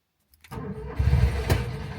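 A classic DAF 46 car engine cranks and catches after a short silence, firing up with a small pop and settling into a steady mid-pitched idle, close and fairly loud.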